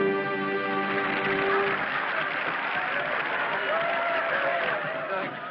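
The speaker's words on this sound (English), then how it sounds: "Hey, listen to them. They're still applauding." Theater audience applauding in a 1932 film, a dense steady clatter of clapping that fills the whole stretch, with a sustained musical tone underneath at the start and faint voices mixed in.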